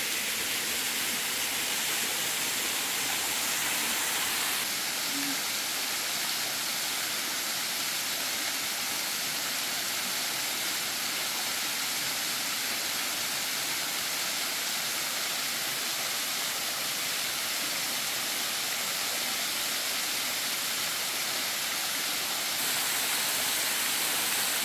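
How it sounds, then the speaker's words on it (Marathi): Nhavankond waterfall near Talebazar in Devgad, Konkan, pours steadily into a pool below, making a continuous, even, broadband rush that holds at the same loudness throughout, with no voices. "या धबधब्यातून वरून येणारे पाणी सतत वाहत असून या कुंडामध्ये जमा होते"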